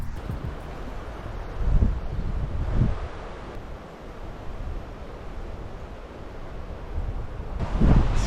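Strong wind blows along route 7 of the Jeju Olle trail, a steady roar buffeting the microphone, with heavier gusts surging now and then.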